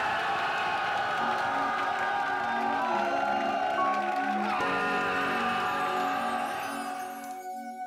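At a military singing contest, a crowd cheers and whoops over a musical intro with sustained melodic tones, steady and moderately loud before fading near the end.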